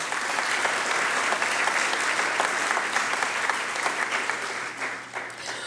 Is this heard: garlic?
no